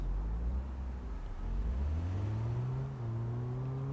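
Car in the video game Big Ambitions driving and accelerating, a steady engine drone whose pitch climbs gradually, drops briefly, then rises again, close and continuous with no talk.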